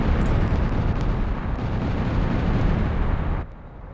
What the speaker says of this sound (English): we just get a cool explosion scene